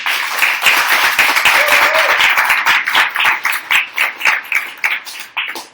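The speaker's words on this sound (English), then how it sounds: "Big round of applause for Ryan O'Hanlon." A live podcast audience in Los Angeles claps for a guest, lively crisp clapping from a small crowd that thins into scattered, distinct claps toward the end.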